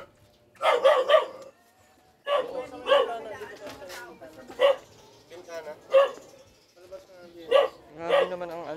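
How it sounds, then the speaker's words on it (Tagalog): Dogs bark in short clustered bursts, close and fairly loud, in a neighborhood yard. Several volleys come with gaps of near silence between them, mixed with a few yips. "Dalawa yung aso mo dyan na may anak."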